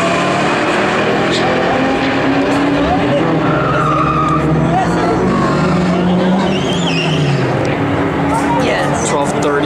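A 2000 Mustang GT with a Kenne Bell supercharger launches at a drag strip, spinning and smoking one tire with a loud sustained screech and engine roar while people talk nearby.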